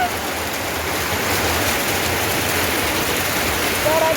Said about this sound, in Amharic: በረዶ እየመታኝ ነው።